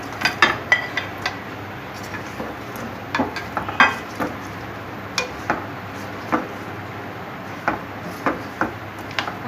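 Browned chicken and ginger-garlic paste sizzling in a karahi, a soft frying hiss under repeated clinks and scrapes of a spoon against the metal pan.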